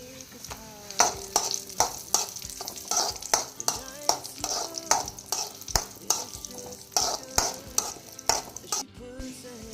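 Cashews and raisins fry together in a pan, stirred in brisk, rhythmic strokes that scrape and clatter over a light sizzle, up close and fairly loud.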